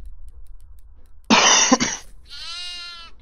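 A goat in the horror video game Devour gives a harsh, loud rasping burst, then a wavering bleat close by, with quiet background noise before it.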